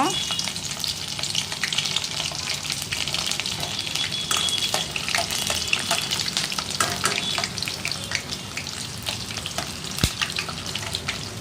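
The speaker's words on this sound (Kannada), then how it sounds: "ಅದ್ರ ತುಂಬ ಎಣ್ಣೆ ಹಾಕ್ಕೊಂಡಿದ್ದೀನಿ ನಾನು ಬೆಳ್ಳುಳ್ಳಿ ಜಜ್ಜಿರೋದು" Crushed garlic frying in a generous amount of oil, a loud, continuous crackling sizzle with occasional sharper pops and stirring scrapes, close and steady throughout with no talking.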